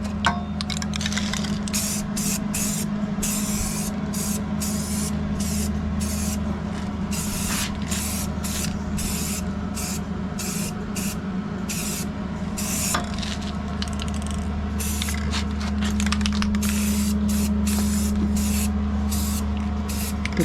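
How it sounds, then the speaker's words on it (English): Welds are spray painted with an aerosol can in a steady run of close, rhythmic hissing bursts separated by brief gaps, with a constant low hum underneath. "Get the welds painted nice so they'll hold it for a while."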